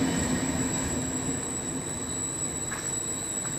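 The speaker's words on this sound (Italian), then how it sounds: "The train is approaching on track 1." A regional train approaching a platform at Roma Tuscolana station, a loud continuous rumble with a high steady wheel squeal, no talk.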